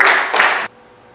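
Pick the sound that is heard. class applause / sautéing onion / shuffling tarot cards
class applause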